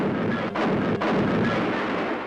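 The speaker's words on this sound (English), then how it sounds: "the flagship of Admiral Fitch was hit by at least 2 bombs and torpedoes" Bombs and torpedoes strike the 33,000-ton aircraft carrier Lexington during a Japanese air attack. A loud, continuous roar of blasts and rumbling is broken by a couple of sharper impacts in wartime newsreel sound.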